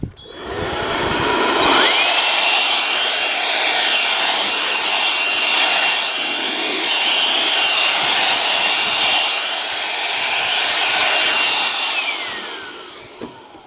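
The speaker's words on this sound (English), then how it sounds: "use some kind of a method, a blower or whatever, to get the shavings off of the roof" A blower clears metal shavings off a van roof during a van build, giving a loud, steady rushing roar that holds for several seconds with slight surges before cutting off.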